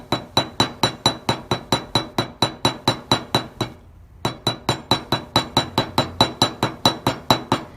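A chasing hammer peens a rivet holding a metal blank to a leather cuff, with rapid, even metallic taps ringing close up, a brief pause midway, then the quick strikes resume steadily with no voices.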